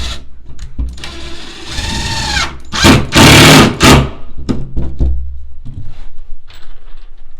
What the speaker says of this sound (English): So we're going to put a few screws in here.